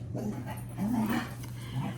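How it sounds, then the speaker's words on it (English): Pet dogs close by, giving low growls and short grumbling barks with whiny tones in a quiet indoor room. "Sorry about my dogs."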